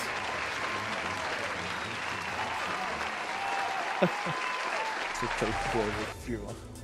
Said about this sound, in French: Je mets les applaudissements.